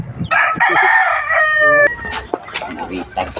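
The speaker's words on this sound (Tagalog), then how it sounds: "Nandito yung manok ni Buddy." A rooster crows loudly close by, one long drawn-out call, followed by scattered clucks and faint farmyard noise.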